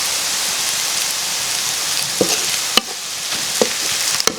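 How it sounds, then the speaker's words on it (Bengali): Onion frying in a pan on a clay stove, giving a dense continuous sizzle like rain, with a few sharp clicks and taps of utensils scattered through it, near and without talk. "তো পেঁয়াজটা একটু ভাজা ভাজা করে নিচ্ছে এই যে।"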